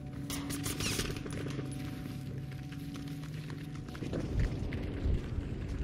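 Battlefield V gunfire crackles in rapid bursts over a rumbling battlefield din, a steady mid-level barrage with heavier blasts late in the clip.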